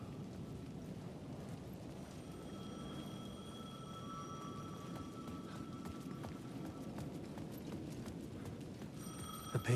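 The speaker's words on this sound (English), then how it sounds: "The payphone at the edge of the plaza was ringing again." A payphone rings at the edge of a plaza in Alan Wake II, its thin repeating trill faint and distant beneath a low, steady background hum, with a sharper click near the end.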